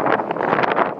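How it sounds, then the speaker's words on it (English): Strong gusts of wind buffet an outdoor microphone, producing a loud, continuous rumbling roar with irregular surges throughout the short stretch, no voices heard. "Windy as hell."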